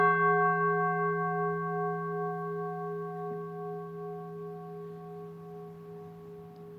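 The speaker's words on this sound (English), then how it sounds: "This was made out of half of a Cala gas cylinder, which Mark Tebbs kindly engineered" A gong bowl made from half a Calor gas cylinder and struck with an old wooden chair leg rings indoors with a long, steady metallic hum that slowly fades, heard alone without talk.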